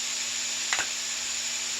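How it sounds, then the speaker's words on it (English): Seasoned meat with Italian seasoning and pepper stir frying in a pan on a stove, a steady close sizzle with one brief louder stir scrape near the middle; no voices. "keep stir frying until it turns brown"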